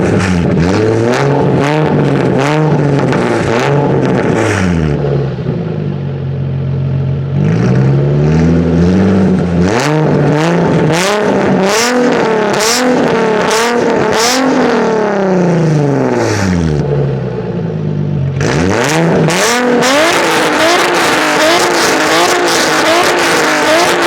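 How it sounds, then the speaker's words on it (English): A Nissan 350Z/370Z fitted with a loud Tomei catback exhaust revs repeatedly, climbing in rising sweeps and pushing to the limiter, then dropping back to idle between pulls, loud and close. "Try to get some rev clips for you guys."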